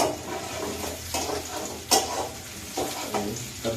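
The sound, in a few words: eggs frying and being stirred in a pan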